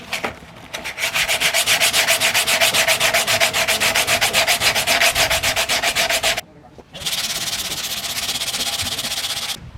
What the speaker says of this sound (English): after about half an hour of sanding and sanding and sanding